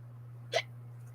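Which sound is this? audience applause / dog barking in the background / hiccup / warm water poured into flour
hiccup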